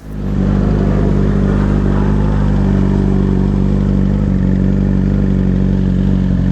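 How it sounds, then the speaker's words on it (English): A tuned motorcycle engine idles steadily while warming up, a loud, continuous low rumble with a constant mechanical clatter and no talk. "I'm going to let the bike warm up for a second."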